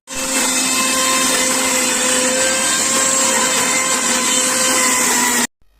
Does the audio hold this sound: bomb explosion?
no